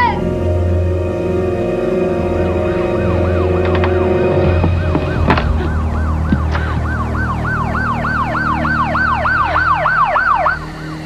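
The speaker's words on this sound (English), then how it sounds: "Maybe the sirens scared him away." Emergency vehicle sirens wail loud and close in a crime drama, a rapid rising-and-falling yelp that repeats over a low engine drone, with a sharp bang partway through.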